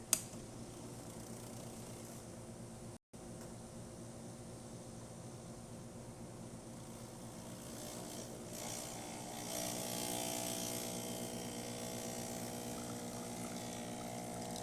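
A Breville Oracle Touch espresso machine, freshly serviced with a new gasket, pumps a double shot: a steady low mechanical hum with a brief break early on, then a rising hiss of flow toward the end, with no one speaking.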